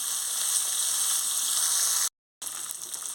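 Onions frying for jowar rava upma, an even, loud sizzle filling the clip, cut by a short silent gap before the sizzle resumes.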